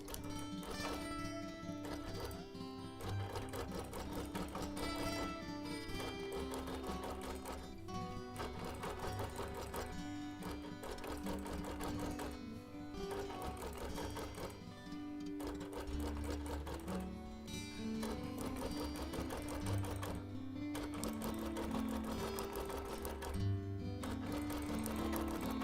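A sewing machine stitches during free motion quilting, its needle clattering in a fast steady rhythm for long runs with brief pauses between, close and clear throughout.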